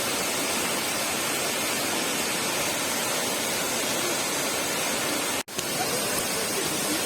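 A yellow, muddy waterfall at the Mendelikha waterfall park near Rosa Khutor in Krasnaya Polyana roars close by as a steady, dense wash of rushing water, broken only by a brief dropout near the end.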